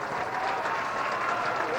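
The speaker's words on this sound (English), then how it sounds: "He gets a hand from the crowd here at Washington Township." A crowd at a Washington Township high school football semifinal applauds an injured player as he is helped off the field, a steady wash of clapping heard from a distance, with a commentator talking over it.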